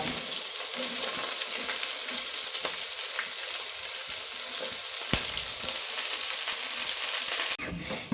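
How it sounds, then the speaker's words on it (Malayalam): Chopped onion, ginger and garlic fry in a pan with a continuous hissing sizzle, a few light taps from stirring, and a sudden drop in loudness just before the end. "നമ്മൾ അരിഞ്ഞു വെച്ച സവോളയും ഇഞ്ചിയും വെളുത്തുള്ളിയും കൂടി അങ്ങ്"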